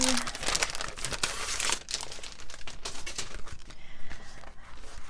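Crinkly plastic packaging of an A4 adult colouring book crackles and rustles continuously close up, dense and busy throughout with only brief pauses.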